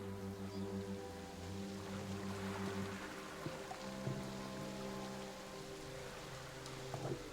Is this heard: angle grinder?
no